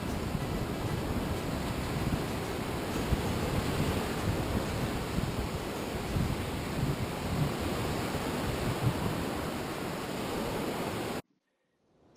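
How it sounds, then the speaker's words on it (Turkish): Sea waves break along the Italian coast by a campsite, forming a steady broad roar of surf mixed with wind. The roar stays continuous and fairly loud, then cuts off abruptly near the end. "dalgalar sörf için yeterli mi bilmiyorum gerçi"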